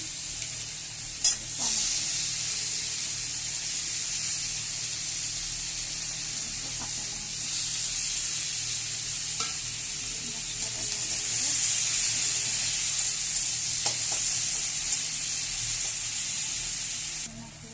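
Chopped ginger sizzles steadily in hot oil in a pan as it is stirred, with a continuous loud hiss and occasional soft scraping clicks of the spatula, with no talking.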